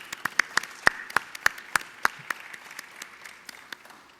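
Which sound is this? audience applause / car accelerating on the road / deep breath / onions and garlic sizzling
audience applause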